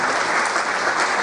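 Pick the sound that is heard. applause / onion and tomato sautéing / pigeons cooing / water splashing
applause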